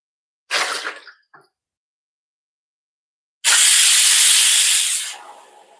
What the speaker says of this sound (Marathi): कुकरच्या शिट्ट्या झाल्याय.